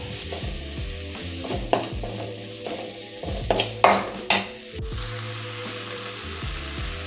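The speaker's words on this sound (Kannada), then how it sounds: "ಸ್ವಲ್ಪ ಸಾಸಿವೆ, ಸ್ವಲ್ಪ ಜೀರಿಗೆ, ಸ್ವಲ್ಪ ಅರಿಶಿನ ಮತ್ತು ಉಪ್ಪು ಹಾಕ್ಕೊಂಡು ಫ್ರೈ ಮಾಡ್ಕೊಳ್ಳೋಣ." Mustard seeds, cumin, turmeric and salt frying in a pan, with a steady sizzle broken by the scrape and clatter of a spoon stirring, and a few louder knocks against the pan near the end; no talking.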